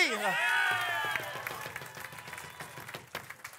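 An audience at an improv match in Québec applauds the Valleyfield team L'Engrenage: a burst of cheering voices gives way to a steady spatter of clapping that thins and turns patchy toward the end.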